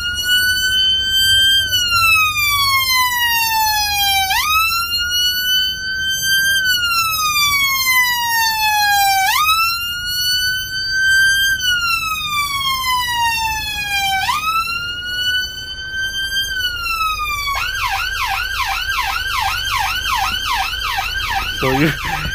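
A Fiat Ducato ambulance siren wails loudly and steadily, sweeping up and down in long repeating cycles before switching to a rapid yelp pattern near the end, heard close and continuous.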